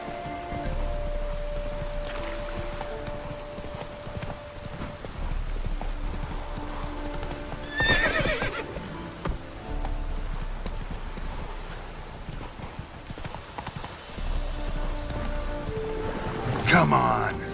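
A horse gallops in The Witcher 3 with steady, rapid clip-clop hoofbeats throughout, over light rain, and gives a brief whinny near the middle and another near the end, with an occasional voice.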